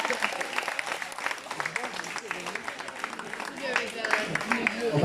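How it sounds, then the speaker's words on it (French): An outdoor crowd at a village pushcar race applauds the winner, a steady patter of clapping running throughout under a voice speaking over it. "Allez, on l'applaudit, fair play."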